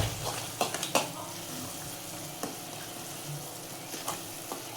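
Boiled soybean curry being mixed with salt in a pan makes a soft frying hiss, with scraping knocks from the spoon clustered early and scattered later; no voices.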